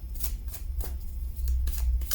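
Tarot cards shuffle in quick, soft riffling bursts close to the mic, repeating several times over a low steady hum, with no voice.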